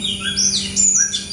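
Several birds chirp and whistle loudly close by in the morning, quick overlapping calls, with a steady low hum underneath and no talking.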